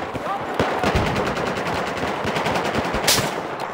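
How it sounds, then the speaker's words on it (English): Rapid automatic gunfire from the video game Battlefield 4, a dense sustained burst of close shots running through the whole stretch, with one sharper louder crack near the end. "I'm shooting at thin air"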